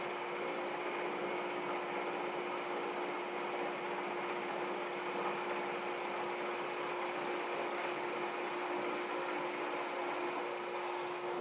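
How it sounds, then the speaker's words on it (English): A workshop dust extractor runs continuously with a steady, even hum and airy whoosh, unchanging throughout and with no talking. "I have an outlet that handles the automatic turning on of the dust extractor"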